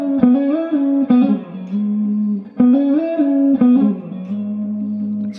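An electric guitar plays a slow lick from a song, with sliding and pulled-off notes phrased twice in a similar shape, sustained and clear with a touch of effects.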